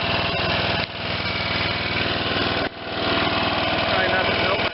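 A 1986 Lawn Chief 300 riding mower with a Briggs and Stratton 8hp engine runs loud and close, a steady throbbing drone with two brief dips in speed.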